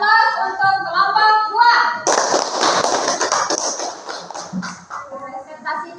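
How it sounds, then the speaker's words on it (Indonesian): Classroom applause for a student group that has just finished presenting, a burst of clapping from a class that starts abruptly after a voice and carries on for several seconds, with talk returning faintly toward the end. "beri aplaus untuk kelompok"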